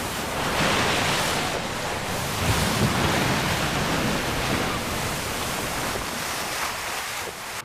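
Strong tidal waves surge and wash up a beach, a dense, steady roar of surf with rolling swells, close and fairly loud throughout with no other sounds.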